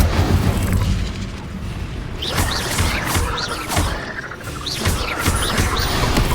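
Incendio fire spell in Hogwarts Legacy, cast over and over as dense, roaring bursts of flame with whooshing flares, loud and continuous, with no voices over it.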